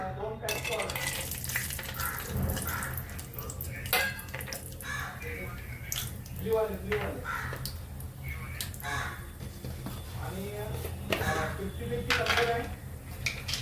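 Peanuts fry in oil for kande pohe with a steady sizzle, frequent metal spoon scrapes and clinks against the pan, and bursts of stirring throughout.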